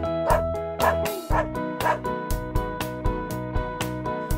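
A dog barks in a steady, repeated rhythm of loud, close yips over a bright musical backing, about a dozen barks in quick succession.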